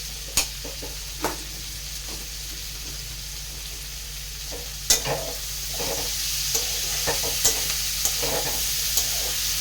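Food stirred and fried in a pan sizzles steadily, punctuated by sharp scraping clicks of the utensil against the pan at irregular intervals, close and fairly loud with no talking.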